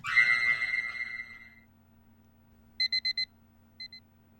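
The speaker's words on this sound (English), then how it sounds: "The alarm glared bright red." A shrill electronic video-game alarm clock rings out loudly and fades, then a few quick beeps sound in a short burst, followed by two more after a pause.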